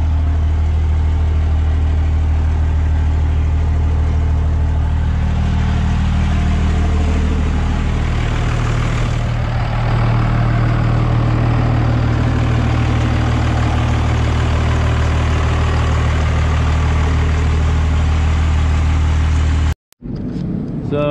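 A car engine idles steadily while warming up before revving, with a low, constant rumble that holds loud and close for about twenty seconds before cutting off abruptly near the end; a flexplate fault was stated.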